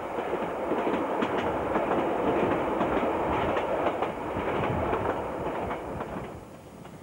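A heritage steam locomotive hauls passenger carriages along the Derwent Valley line in Tasmania, a continuous rumble with rhythmic clickety-clack of wheels on rails that eases slightly toward the end.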